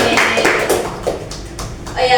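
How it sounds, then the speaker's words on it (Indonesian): A small classroom group of students clapping hands together after an ice-breaking game, short irregular claps mixed with voices talking at close range. "Tepuk tangan."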